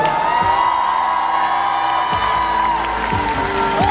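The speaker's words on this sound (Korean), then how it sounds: "마지막으로 저희 댄스팀들에게 큰 박수 부탁드리겠습니다." A concert crowd cheers and whoops loudly, with scattered shouts rising over steady noise throughout.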